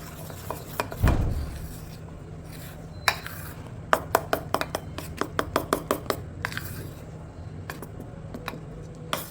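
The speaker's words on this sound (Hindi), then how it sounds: "तो बस इसको अब मैं दोबारा से मिक्स कर दूँगी बिल्कुल हल्के हाथों से" Dhokla batter with eno is gently stirred in a bowl, producing a soft rub followed by a run of light, quick spoon clicks and taps against the bowl's side.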